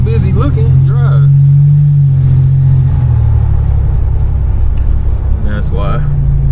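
Engine of a 1987 Buick Grand National heard from inside while driving, a steady low rumble that swells slightly under acceleration, with people talking over it.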